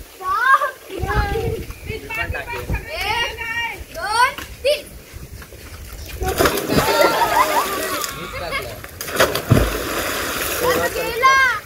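An 11-year-old boy jumps into the water for a swim, followed by loud splashing and sloshing, with children and adults talking and calling out throughout.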